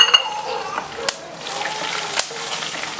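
Sizzling and crackling of spices, ginger and cashews in hot oil, with sharp pops scattered through a steady frying hiss, close up.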